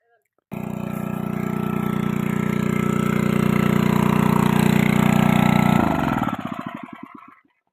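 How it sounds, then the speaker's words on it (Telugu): A farm engine runs loud and steady close by for several seconds, then is switched off and sputters down through a few uneven knocks into silence. "వెళ్ళి ఇంజిన్ ఆఫ్ ఆఫ్ చేసేస్తాను"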